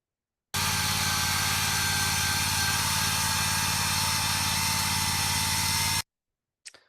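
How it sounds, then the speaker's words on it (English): A hydraulic chainsaw cuts through a coral slab, a loud, steady high-pitched mechanical whine and rasp that starts abruptly, runs unbroken for about five seconds, then stops, followed by a brief faint knock. "that's using a hydraulic chainsaw to cut through the coral"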